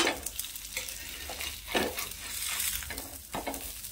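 A Kolhapuri breakfast snack roasting on low flame in a pan, a soft continuous sizzle broken by repeated scraping and pressing strokes of a spatula, close and fairly quiet with no voices.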